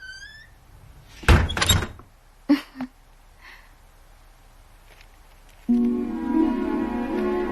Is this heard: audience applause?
no